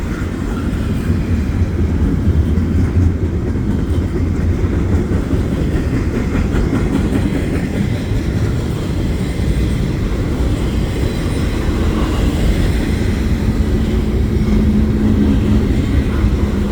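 A CPKC double-stack freight train departs in the rain, a steady, continuous rumble and rail clatter holding loud and close for the whole stretch, with a low engine drone underneath.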